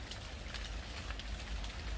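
Steady rain falls in a vineyard during grape thinning, a dense, even patter that stays constant and moderately close throughout with no voices.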